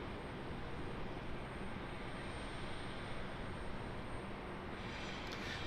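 An airplane departs Raleigh Durham International Airport, its engines a steady, distant broadband roar that holds evenly throughout.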